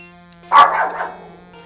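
A single upset dog barks once from somewhere below, a short sharp burst that trails off over a steady electrical hum, with no talking.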